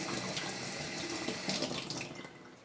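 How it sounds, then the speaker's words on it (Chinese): Cleaned pomfret fish rinsed under a running kitchen tap: a continuous, fairly loud rush of water splashing into a sink, close and steady throughout, with slight changes as the fish is moved in the stream. "杀好的鲳鱼给它清洗干净，再洗2个青柠檬。"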